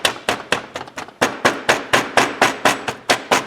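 A wooden dowel rammer compacts foundry sand with a rapid series of about fifteen sharp, close thuds, uneven at first and then settling into a steady beat.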